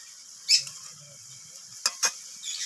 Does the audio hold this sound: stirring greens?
yes